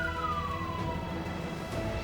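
An ambulance siren wails with a single descending tone, sounding moderately distant over a steady low background rumble.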